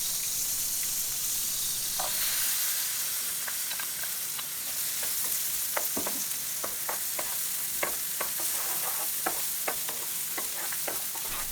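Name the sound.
chopped onion frying in butter in a pan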